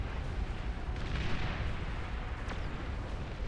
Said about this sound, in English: Everything is shooting at it. Look how many rounds.